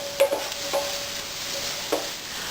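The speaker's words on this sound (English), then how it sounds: "we're going to saute the onion" A frozen onion sautés in a skillet with a steady, soft sizzle. A few light scrapes of stirring rise above it now and then, with no voices.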